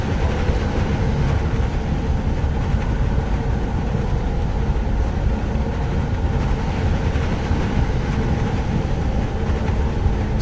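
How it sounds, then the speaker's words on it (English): A train ride in the Jurassic World Evolution 2 video game, heard as a steady, continuous rumble and rattle of rolling rail cars that stays even and close throughout, with no talking. "taking a train ride."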